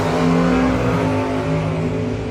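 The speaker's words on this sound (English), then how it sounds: "Fornwalt in the low-flying Camaro. The equally low Chevelle, Tom Stahl out of Enola, Pennsylvania, going to get chased" Drag racing cars, a low Camaro and a Chevelle in a no-box 660 shootout, roar loudly down the strip, a dense sustained engine drone with no voices.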